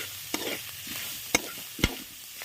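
Cleaned mutton tripe is mixed by hand in a bowl. Three brief, wet slaps stand out over a quiet, soft background.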